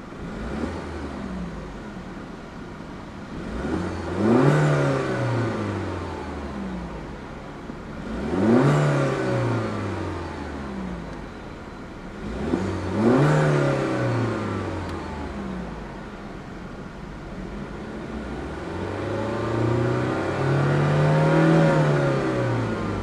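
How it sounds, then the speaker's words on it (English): A 2015 BMW 120i M Sport five-door engine revs hard four times, each rev climbing steeply and falling back to idle in a steady rhythm, loud and close with no talk. "So let's go ahead and see how she revs."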